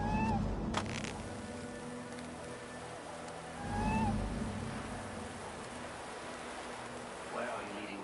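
A small cat meows several times inside the Assassin's Creed Valhalla game, short rising calls at a moderate distance over a low rumbling ambient bed, with a brief swell of wind or water partway through.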